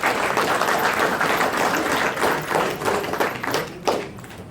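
An audience at a community dance event claps for the organizers, a dense wash of applause with a few sharper individual claps, tapering slightly toward the end.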